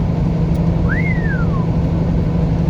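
A single clear whistle rises and then slides downward, heard once over the steady rumble of a car driving the I-95N interstate toward Biddeford, Maine.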